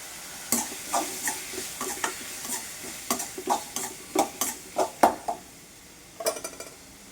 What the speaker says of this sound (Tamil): ரெண்டு வெங்காயம், 3 தக்காளி சேர்த்துருக்கேன். தேவையான உப்பு சேர்த்துடலாம். அப்போ தான் தக்காளி நல்லா வதங்கும்.